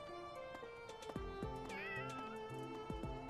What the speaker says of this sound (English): Can I pet the cat?